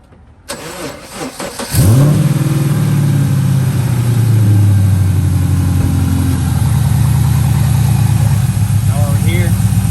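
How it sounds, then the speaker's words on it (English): A 2010-2015 Chevrolet Camaro SS V8 cranks and fires up after a serpentine belt replacement, then settles into a loud, steady, close-up idle with a deep rumbling tone. "So let me just start it normally, get it all started, get it set up."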